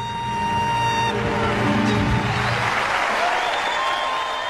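A studio audience on a radio comedy show breaks into applause, a dense, steady roar of many hands clapping that swells after a brief tonal sound at the start and carries on without letup.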